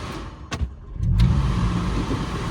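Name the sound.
MK5 VW Rabbit engine struggling with failing fuel pump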